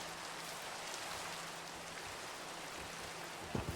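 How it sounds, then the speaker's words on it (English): Steady Minecraft rainfall hisses evenly and continuously throughout, a soft broadband wash with no voices, ending in a few brief louder bumps. "Oh, it's raining."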